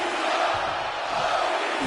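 Arena crowd noise in the WWE 2K25 wrestling video game rolls on as a steady, dense cheer and chant, moderately loud and unbroken across the moment.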